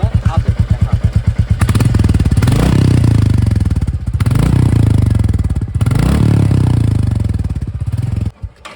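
Royal Enfield Bullet 350 Military motorcycle exhaust, up close: a slow, distinct thump-thump idle that breaks into a loud, throaty roar, then repeated revs that swell and drop back before the engine settles.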